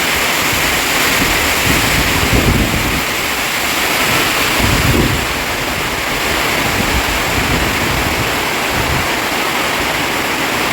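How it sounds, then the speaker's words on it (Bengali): Heavy rain pours on a tin roof, a dense, even hiss that stays loud and unbroken throughout with no voices. "টিনের চালে বৃষ্টির শব্দ"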